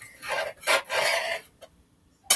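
A sharp knife scrapes gunk from the underside of a sink in a few short, rasping strokes, close and dry, ending in a brief tap and then near silence.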